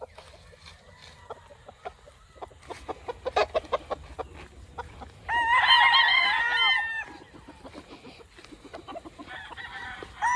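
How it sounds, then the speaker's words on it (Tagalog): Farm chickens at a poultry house cluck in rapid bursts while a rooster crows loudly and close for a few seconds midway, with more clucking and another crow near the end. "Ito yung mga manok nila."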